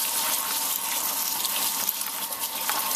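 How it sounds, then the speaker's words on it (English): Tap water runs steadily over rice being rinsed in a kitchen sink, a continuous close splashing hiss that holds evenly for the whole stretch with no voices. "And we're rinsing the rice."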